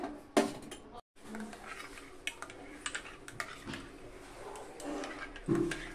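Spoon scraping and clinking against a container while powdered milk is stirred with a little hot water, in irregular close taps and scrapes with short pauses, no talking.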